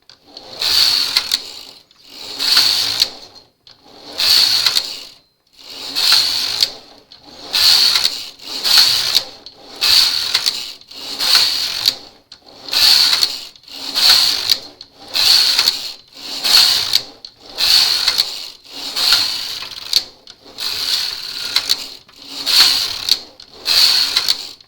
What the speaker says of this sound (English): then we just knit our ribbing back and forth.